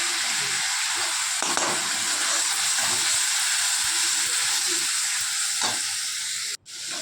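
Spice masala of salt, turmeric, cumin, coriander powder and a little chili powder sautéing for a fish curry, a steady loud sizzle with a scraping stir, close and continuous, then a brief dropout near the end.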